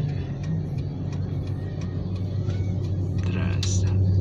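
A car engine rumbles steadily as a learner driver presses the gas, a low continuous drone heard from inside the cabin while people talk over it.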